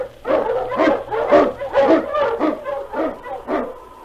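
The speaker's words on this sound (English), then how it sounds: "King, the swiftest, strongest of Eskimo lead dogs, blazes the trail through storm and snow" Eskimo husky lead dog on a snowy Yukon trail barks in a steady run of about eight sharp, loud, close barks spaced roughly half a second apart, with a low hum beneath.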